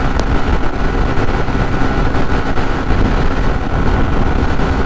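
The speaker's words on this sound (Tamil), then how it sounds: "பயங்கரமாக காற்றடிக்குது, எதிர்காத்து." Strong headwind buffeting the microphone while riding a motorcycle at about 115 km/h on a highway, a loud, steady broadband roar with rumbling low end and no talk, continuous throughout.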